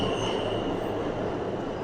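A New York City subway train on the F line rolls along the rails with a loud, steady rumble and a high, continuous wheel squeal close by.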